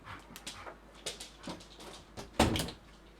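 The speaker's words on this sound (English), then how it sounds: "I think I got to let my dog out." A pet dog whimpers and whines softly in short bursts while being let out of a house, with a door sliding or opening partway through and no talking.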